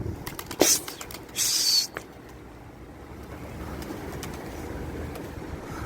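Sudden bursts of flapping wings as a flock of pigeons takes off, with faint cooing and a low background rumble of traffic.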